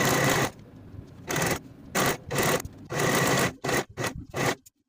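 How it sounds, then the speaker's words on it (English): A sewing machine stitches a fabric waistband with a quarter-inch seam in short repeated bursts, the motor whirring loud and close between brief pauses. "we're ready to sew it all the way around with the 1/4 inch seam allowance"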